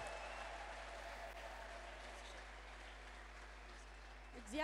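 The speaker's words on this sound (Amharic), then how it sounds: "አንድ ሰው ቆሞ ለጌታ ክብር ያጨበጭባል" A church congregation claps together in praise of the Lord, a dense, steady wash of applause from many hands filling the room and sustained throughout.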